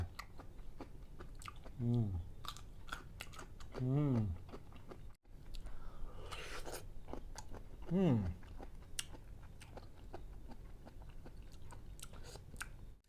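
Crisp bites and crunchy chewing of a giant one-kilogram mango, three distinct loud crunches close to the mouth with steady chewing in between.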